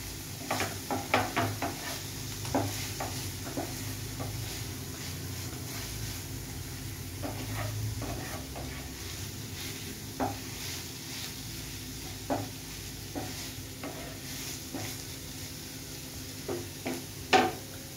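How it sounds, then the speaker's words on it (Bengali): A spoon stirs paneer sandwich filling in a pan, giving scattered scraping and tapping strokes over a low, steady kitchen hum. The strokes are denser at first and turn sparse and faint later, with no talking. "সঙ্গে সঙ্গে আমি নেড়ে দিচ্ছি।"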